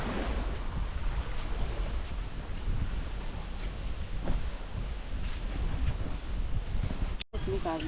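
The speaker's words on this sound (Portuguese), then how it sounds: "Vamos curtir o vento aqui no acampamento." Wind gusting across a riverside campsite, a loud broadband rush with rumbling microphone buffeting that holds steady for several seconds before a sudden brief cutout near the end.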